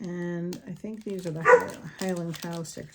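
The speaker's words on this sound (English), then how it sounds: "My dog is barking at nothing." A pet dog barks a few times around the middle of the moment, mixed in with someone talking steadily close to the mic, plus faint crinkling of a sticker pack.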